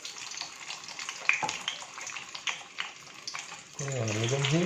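Beancurd sizzling in hot oil over medium heat, a steady broadband frying hiss throughout with a louder bubbling burst near the end as the piece settles in; a voice talks faintly underneath.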